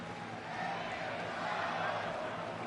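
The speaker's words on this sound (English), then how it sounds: "you hear the crowd, folks, chanting for AJ Styles" A crowd chants in the wrestling video game WWE 2K25, a dense, continuous roar of massed voices filling the arena, loud and steady throughout the short stretch.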